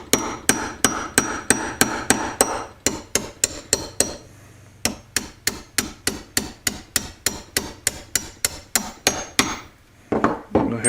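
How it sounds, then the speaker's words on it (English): Light hammer taps on a 14 mm deep socket seating a Honda Grom crankshaft, a long run of sharp, evenly spaced metallic strikes, close and clear, with a short pause midway. "take a 14 socket, deep socket, place it on there, and give it some nice light love taps"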